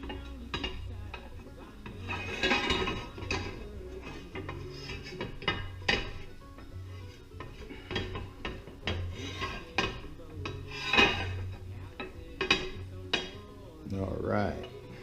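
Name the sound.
greasing a baking dish with cannabutter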